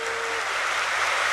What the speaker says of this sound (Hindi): और जोर से ताली बजाएंगे।